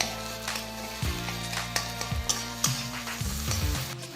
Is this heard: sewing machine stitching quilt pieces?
no